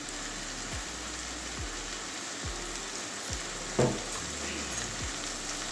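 Ghee goes into a hot pan of katla fish head and papaya curry, giving a steady, even sizzle with faint periodic pops and one brief knock partway through.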